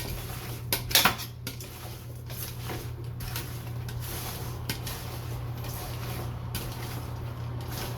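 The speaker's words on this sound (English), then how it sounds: "Now I'm going to use my tongs to give this a good mix" Metal tongs toss vegetables coated in salt, pepper and oil in a bowl, giving a few loud clatters early on and then scattered light clinks over a steady low background hum; no talking.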